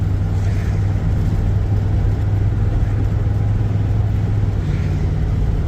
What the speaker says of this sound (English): Couldn't ask for it to shift any better.